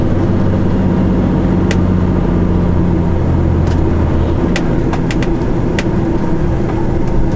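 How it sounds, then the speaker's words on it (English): A truck engine braking on a Cornish road, giving a steady low rumble that holds throughout with a few short clicks and knocks on top, loud and close. "A bit of engine brake into here"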